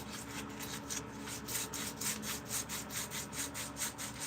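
Sandpaper rubbing back and forth across a wooden spoon, a close, steady rasping in quick even strokes with a soft scratchy texture throughout.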